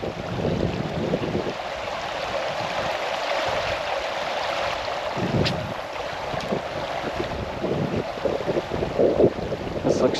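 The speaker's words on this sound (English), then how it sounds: "It's getting windy though." Wind beside a creek while trout fishing, a steady gusty buffeting with rushing water underneath, fairly loud and continuous, with no speech.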